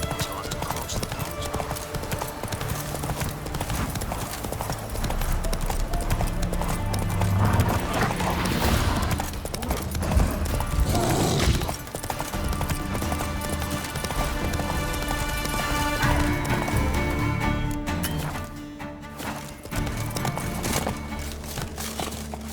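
Horse hooves clip-clopping at a run in The Witcher 3 open-world game, steady and fairly loud, with occasional whinnies, under game music and a voice speaking.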